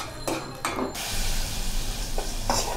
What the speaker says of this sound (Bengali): এখন এটা সিদ্ধ হবে আর কষানো হবে।